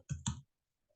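Two quick, crisp clicks of a computer keyboard's Enter key, close and distinct, followed by near silence.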